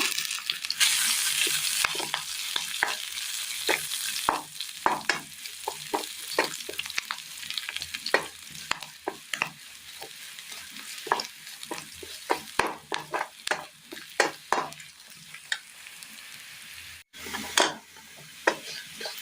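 Curry leaves frying in hot oil, a close, continuous crackling sizzle with frequent sharp pops and spatters, dense at first and then settling into irregular bursts, heard alone without talk.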